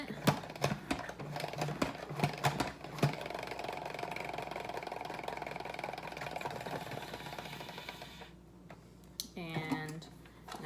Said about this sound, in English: So I'm gonna put my salad spinner top on and I'm gonna spin it.